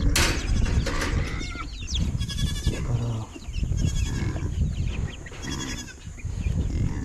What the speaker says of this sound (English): if these goats will get off here, I'll show you